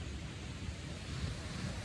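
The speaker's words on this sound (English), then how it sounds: "I don't know if you guys can hear that waterfall" A waterfall at Big Bend Campground makes a soft, even rush of water in the background, low and constant throughout, with no one speaking.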